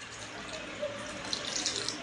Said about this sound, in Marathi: पाणी ॲड करूया